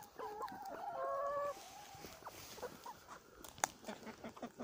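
Chickens on a farm plot cluck in a run of harmonic calls during the first second and a half, then quieter scattered clucks and small scratching sounds follow. One sharp tap stands out near the end.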